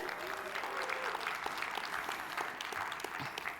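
A conference audience breaks into steady, fairly distant applause, a dense even wash of clapping lasting throughout.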